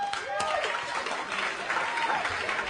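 A small audience gives brief, thin applause, a scattered patter of claps at moderate distance with a voice speaking over it.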